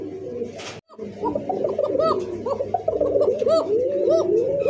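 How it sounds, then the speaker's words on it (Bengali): A pair of Kokka pigeons, sold as original Banshiraj Kokka, cooing loudly and close, their warbling calls overlapping continuously after a brief sharp noise and short silence at the start. "সেই ডাক দেখার মতো এক জোড়া ককা কবুতর"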